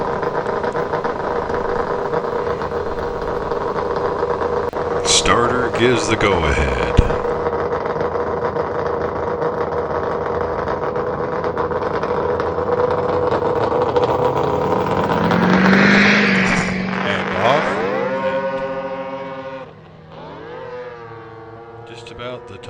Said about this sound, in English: cool morning, engines crackling to life.